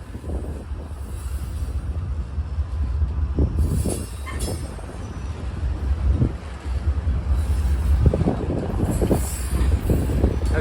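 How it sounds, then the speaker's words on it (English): A Union Pacific train rolls past on the BNSF main line at Kalama, Washington, making a continuous heavy rumble close by, with brief wheel squeals and wind buffeting the microphone. "we got the Union Pacific. It's on the BNSF main track."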